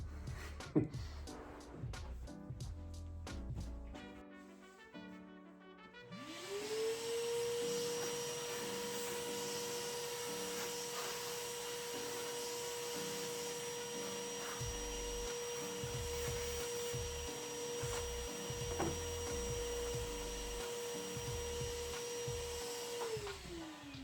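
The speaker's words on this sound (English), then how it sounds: "I'm gonna go get my vacuum." A vacuum cleaner switches on after a few seconds of clatter and runs steadily, a loud constant motor whine with a rushing airflow hiss, near and alone with no talking.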